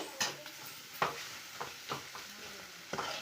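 Liver fry with curry leaves is stirred in a pan, giving soft repeated scrapes over a low, quiet sizzle, with no voices.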